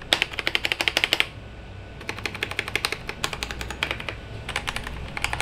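Rapid typing on an Inplay SK960 full-size keyboard: quick bursts of close, clicky keystrokes with brief pauses between runs, nobody speaking.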